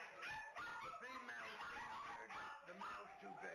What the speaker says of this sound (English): 6 baby schnauzers jammed into a wire cage with their mom